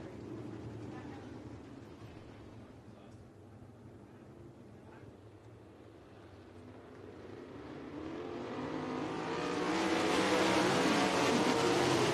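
ASCS Northern Outlaws sprint cars race at El Paso County Raceway. A distant engine drone swells into a loud, roaring pass as the cars close in, loudest at the end.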